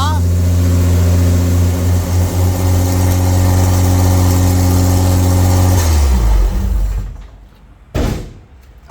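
A VJ Dodge ute's engine idles steadily and loud with a deep harmonic exhaust drone, then shuts off, leaving near silence and a brief knock.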